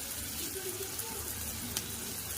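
Onions frying lightly in a pan at home, a soft, steady sizzle heard faintly beneath speech.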